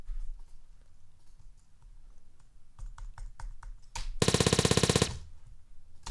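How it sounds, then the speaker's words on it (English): A layered automatic assault rifle gunshot effect: a short burst of rapid, very loud shots fired in quick succession, after sparser individual hits and clicks, with no voices. "an automatic assault rifle gun"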